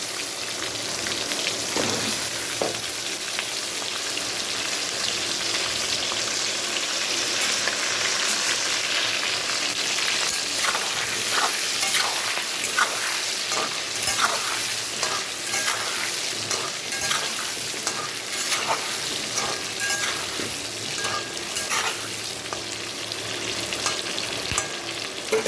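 Tomato and potatoes fry in oil for a dum chicken recipe, a continuous crackling sizzle with scattered sharp pops and occasional stirring, close and steady, no voices.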